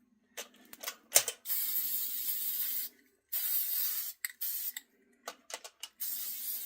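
A Rust-Oleum spray paint can hisses out in a run of bursts, some quick puffs and some held for over a second, close and clear with quiet gaps between sprays.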